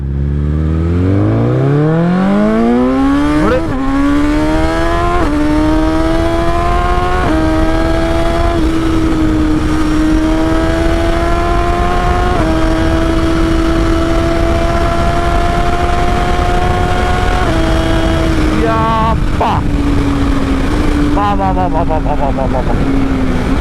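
A BMW XR motorcycle engine climbs through the revs as the bike is ridden, with rising pitch sweeps, gear changes and a sustained high drone, loud and close, with a voice talking over it.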